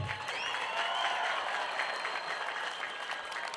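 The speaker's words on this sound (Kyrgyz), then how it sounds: "Узакка созулган шатырата кол чабуулар басылбай турду." Sustained applause from a large stadium crowd at a political party rally in Osh, dense continuous clapping with a faint crowd murmur, steady and loud throughout.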